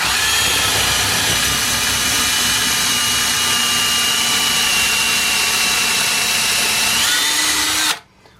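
A loud, steady power drill whines continuously at high speed, close up, drilling into a wood wall stud, then cuts off abruptly near the end.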